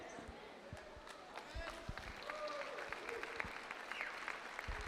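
A church congregation at a Pentecost convention applauding: sustained, moderately distant clapping from a large crowd with voices mixed in, steady throughout.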